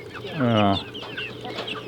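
A single loud, close chicken cluck rising out of faint background noise, followed by softer clucking murmurs.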